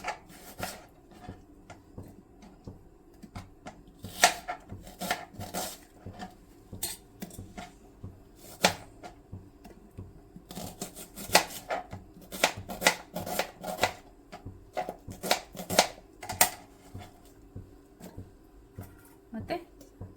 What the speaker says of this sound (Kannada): ಮೊದಲಿಗೆ ಟೊಮೆಟೊ ಮತ್ತು ಈರುಳ್ಳಿ ಹಚ್ಕೊಂಡು ಡೈರೆಕ್ಟಾಗಿ ಹಸಿದೇನೆ ಮಿಕ್ಸಿ ಜಾರ್ಗೆ ಹಾಕ್ಕೊಳ್ಳೋಣ.